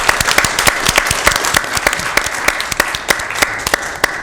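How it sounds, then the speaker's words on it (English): An audience at a Sacramento Public Library council meeting gives a steady round of applause, dense overlapping claps sustained close and loud throughout with no talk over them. "One more round of applause."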